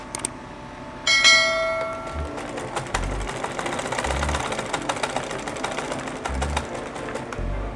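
A sewing machine stitches Ankara skirt fabric in a fast, steady whirring patter, with a brief metallic ring near the start and occasional low thumps under the running motor.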